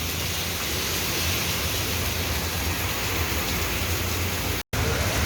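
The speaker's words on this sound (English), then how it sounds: "so it's a lot of rain" Heavy rain pours down in a dense, steady hiss with no pause, close and loud, broken only by one split-second cut near the end.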